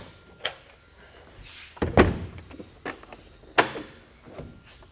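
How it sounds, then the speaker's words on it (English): Panels of a BakFlip G2 folding tonneau cover being released by pull cord and flipped open on a pickup bed, giving a few sharp clunks and thumps with quiet pauses between, one heavier thud in the middle. "you have to pull the release cord on each panel"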